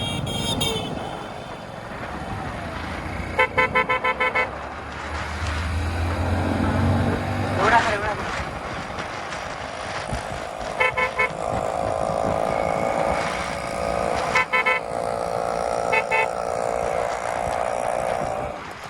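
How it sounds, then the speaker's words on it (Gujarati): Busy road traffic heard from a moving bike, with repeated short car and bike horn toots in bursts over a continuous engine and road rumble, fairly close and loud. "ટ્રાફિક વધારે"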